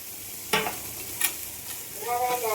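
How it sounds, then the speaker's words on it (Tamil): Onions, carrot and beans sautéing in a pan for wheat upma, with two sharp scrape-like stirring knocks over a soft steady sizzle, close and moderately loud with no talk. "இப்போ நம்ம வெங்காயம் வதங்கும் போதே இந்த கேரட் பீன்ஸையும் சேர்த்துடலாம்."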